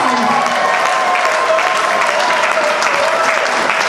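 A church congregation applauds, a dense, steady burst of clapping from a crowd that stays loud for the whole four seconds.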